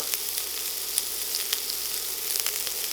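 Garlic and onions sizzle steadily in a hot pan for a chicken sausage and veggie stir fry, a constant bright crackle with scattered sharper pops throughout.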